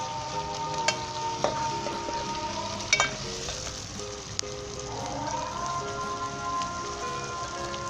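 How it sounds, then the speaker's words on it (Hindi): Crushed ginger and garlic fry in a pan of oil, giving a continuous rain-like sizzle with a few scattered spatters and clicks, close by and without talk. "अब आपने इसमें अदरक लहसुन डाल देना है जो कूटा हुआ मैंने, और अच्छे तरीके से इसे भून लें।"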